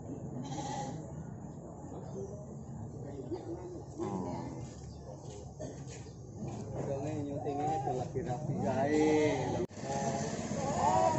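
Young lambs, about three months old, bleat repeatedly at a village livestock market, wavering cries rising in loudness over a noisy crowd backdrop with voices talking.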